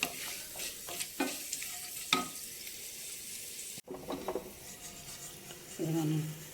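Spices tempering in hot oil for a tamarind, coconut, sesame and peanut chutney, with chana dal in the mix, sizzling steadily in a pan while a spoon stirs and scrapes in intermittent knocks, close and moderately loud, with a brief clatter of cookware.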